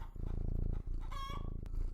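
A hen clucking in a farmyard sound effect, a series of rapid, close clucks with a drawn-out higher cackle in the middle, set over a low continuous background drone.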